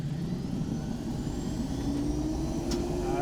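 A small engine idles steadily and close by after starting, with a continuous low rumble and a faint rising whine, no talk over it.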